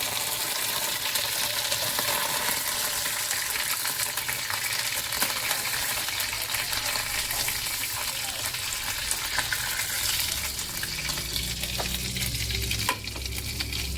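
Ginger, garlic, mace and nutmeg frying in hot oil give a steady, close sizzle and crackle that continues without a break, with no talking.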